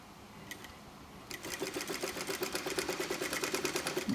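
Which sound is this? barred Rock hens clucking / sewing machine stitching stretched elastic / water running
sewing machine stitching stretched elastic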